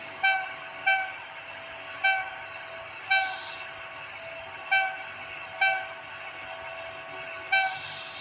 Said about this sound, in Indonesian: ada kereta yang berlawanan arah